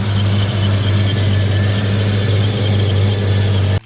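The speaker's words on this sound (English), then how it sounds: "1975 Buick 350 VI8" A 1975 Buick 350 cubic inch V8 idles steadily with a deep, even low rumble that holds constant throughout, then cuts off abruptly at the very end.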